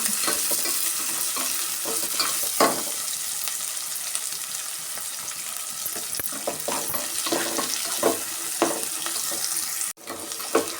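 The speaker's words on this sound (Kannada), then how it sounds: "ಬ್ರೌನ್ ಕಲರ್ ಬರೋವರೆಗೂ ಫ್ರೈ ಮಾಡ್ಕೊಳ್ಳೋಣ." Frying food stirred in a pan until brown, with a dense, continuous sizzle and irregular scraping strokes of a spoon, close and steady throughout, with a brief dropout near the end.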